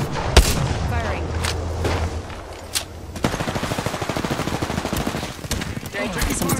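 Eva-8 shotgun fire in the game Apex Legends, with loud booming shots and a dense rattle of gunfire continuing throughout, close and dominant.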